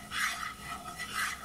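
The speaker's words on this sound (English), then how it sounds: "I'm going to go ahead and stir this up" A spoon scraping and swirling through flour and fat for a homemade roux in a pot, soft rhythmic rubbing strokes, quiet and close, with no voices.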